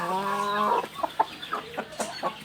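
Black Karinkozhi chickens on a poultry farm give a drawn-out cackle followed by a series of short, spaced clucks, fairly close with quiet background noise.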